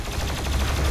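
Rapid automatic gunfire in Doom Eternal, a dense, loud, continuous burst of shots with heavy low-end weight filling the whole second.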